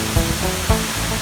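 Bridal Veil Falls in Hope, British Columbia, water dropping about 60 metres, a steady broadband rushing roar, loud and close, with a couple of brief low thumps from wind or handling.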